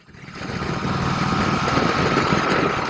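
A Harley-Davidson Road Glide motorcycle engine rumbles and revs up quickly, then holds a steady loud drone, close by, with wind-like roar and no speech.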